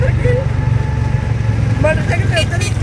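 A motorcycle engine drones steadily up close, low and continuous, while a person speaks over it.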